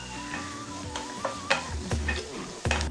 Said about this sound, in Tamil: சேர்த்து வதக்கிக்கோங்க